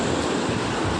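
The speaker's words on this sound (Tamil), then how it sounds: "கடல் அலை வேகமாக வருது வருது வருது" Sea waves surge fast onto a beach, a loud, steady wash of roaring surf with no break, heard alone without talk.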